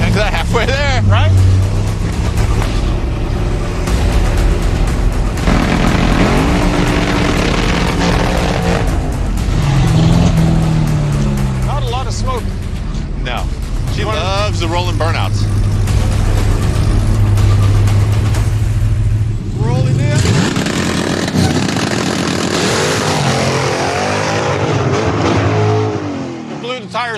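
A street race car launches with a roaring engine and spinning, squealing tires, rising and falling over a long stretch at a hot rod garage event, with people talking throughout.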